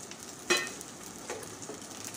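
Green chillies dropped into a pan on a low gas flame, giving a soft sizzle that rises sharply as they hit the oil and then settles into a quiet, steady frying hiss.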